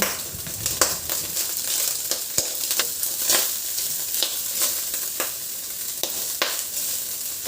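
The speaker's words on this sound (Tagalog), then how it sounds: "Ilagay ko na yung bawang." Chopped garlic sizzles steadily in hot rendered pork fat, a dense continuous frying hiss broken by occasional sharp crackles and stirring clicks, close and loud with no talking.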